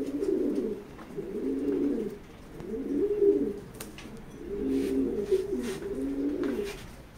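Pigeons in a racing pigeon loft give about five rolling, repeated coos in a steady rhythm, close and moderately loud, with no talking.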